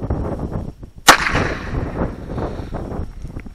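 A single .22 LR pistol match round fired from a Heritage Rough Rider revolver outdoors, one sharp, loud crack followed by a lingering echo and steady background noise.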